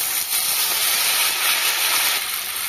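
Drained pasta hits a hot pan of lightly fried ginger and cumin, setting off a loud, steady, close sizzling hiss that runs throughout without pause.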